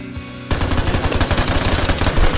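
Rapid loud gunfire in the online shooter Vigor erupts after a brief quiet moment and continues as a dense, close burst of repeated shots.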